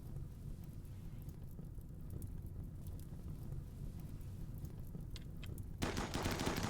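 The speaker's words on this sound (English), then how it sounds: "thing doesn't withstand that many guns blazing at once" Many guns firing at once in the game Rimworld, a dense rattling barrage of rapid shots close and continuous, intensifying sharply near the end.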